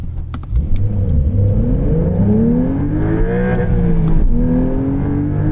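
A 992.1-generation 2024 Porsche 911 Carrera T accelerates hard at full throttle, its engine note climbing loudly through the revs, dipping briefly at a gearshift and then rising again close by.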